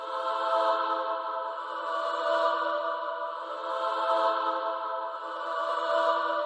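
Choir plugin voices singing an A-vowel articulation, a held harmonic chord that rises and eases in soft waves, steady and alone without speech.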